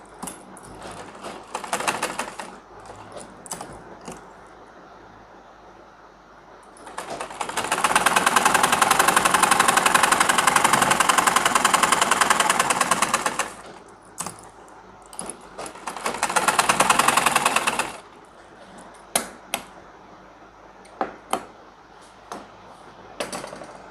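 Sewing machine stitching a pocket onto a pajama, with two sustained bursts of rapid mechanical whirring separated by pauses filled with scattered clicks and handling noises, close and fairly loud.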